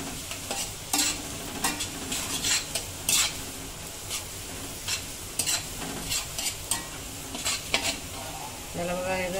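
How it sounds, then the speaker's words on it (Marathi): Garlic and ginger sizzle loudly in a hot pan on high flame for Agri-style prawn rice, with repeated scraping strokes of a spoon stirring through the steady frying hiss. "आपण हलवून घेऊया।"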